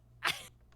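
A single sharp sneeze bursts out at close range during a relaxed indoor livestream, then fades into quiet.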